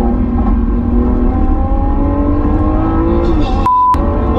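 Lamborghini supercar engine loud and close, revving hard with a dense rising harmonic roar under acceleration, then a brief sharp high tone near the end.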